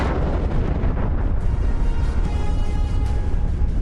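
Loud, sustained rumbling blast from a drone attack during an outdoor presidential speech ceremony, a broad roar that fills the whole span without easing.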